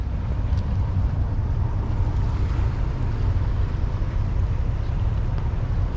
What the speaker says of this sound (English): Big wave's going to come in now, this boat.